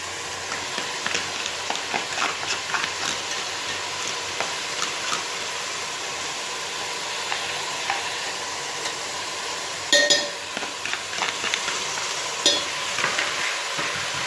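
Steady sizzling of veg hakka noodles stir-frying in a hot pan over high heat, with occasional utensil scrapes and clinks throughout.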